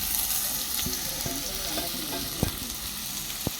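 Okra sizzling steadily in a hot pan as chopped tomato goes in, a constant frying hiss broken by a few sharp clicks of a spoon against the pan, with no voices.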